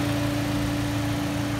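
A 2011 Mini Cooper's small engine idles steadily with a constant low hum and faint whine, unchanging and close throughout.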